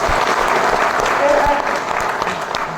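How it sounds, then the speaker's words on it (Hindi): An audience at an RCM seminar-style gathering claps steadily together for about three seconds, a dense continuous patter with a little speech mixed underneath. "ताली बजा दो एक बार।"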